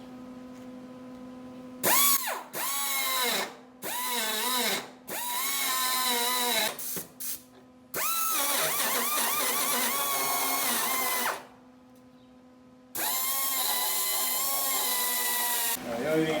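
A power drill cuts a hole in a John Deere lawn tractor steering part, whining in short revving bursts that start, stop and restart close by, with long runs and brief pauses between them.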